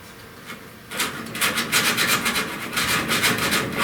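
A sanding block is rubbed over body filler on a car panel in quick back-and-forth strokes, starting after a brief quiet moment, then rasping steadily and loudly with a rhythmic scrape and no talk.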